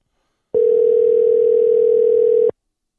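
A steady telephone dial tone hums alone for about two seconds, a single unbroken pitch that starts and stops abruptly, loud and close, heard while a number is about to be dialed for a prank call to a 7-Eleven.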